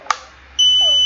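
A drone flight controller's buzzer gives one short beep, then a steady, loud electronic tone that holds to the end, with no talking.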